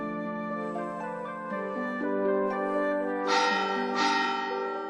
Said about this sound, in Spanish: ¿Oís el sonido de las campanas?